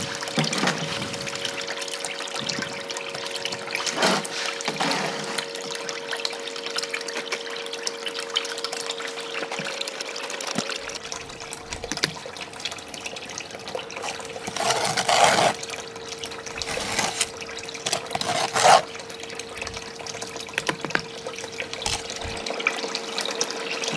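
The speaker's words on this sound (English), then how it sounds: "I'm going to run it through this other micro sluice" Water trickles and splashes steadily through a small micro sluice used for gold prospecting, with a constant hum in the background and occasional louder sloshes and bumps.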